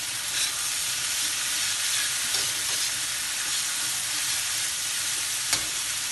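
Tofu stirred in a hot pan alongside frying vermicelli for Malaysian laksa chicken fried vermicelli, a continuous close sizzle with scraping stirs and a sharp utensil knock near the end, no speech.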